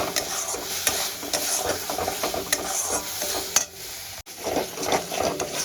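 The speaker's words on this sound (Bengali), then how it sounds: "আদা রসুন আর কাঁচা লঙ্কার পেস্টটা দিয়ে দেব আমি একসঙ্গে পেস্ট করেছিলাম এবার দিয়ে ভালো করে কষাতে থাকবো" Ginger, garlic and green chili paste sizzles steadily in a hot pan for Punjabi-style rajma, broken up by scraping stirs and light clanks of the spoon against the metal, loud and close, with nobody talking.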